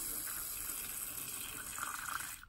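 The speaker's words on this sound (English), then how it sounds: "a bit of spray in the water bowl" Water sprayed into a tarantula's water bowl, a close, steady hiss of fine spray running for a couple of seconds, alone and fairly quiet.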